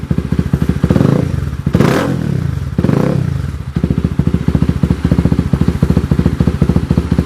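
A motorcycle with a new exhaust pipe idles loudly nearby, then revs hard twice in quick bursts before settling back to a steady, throbbing idle.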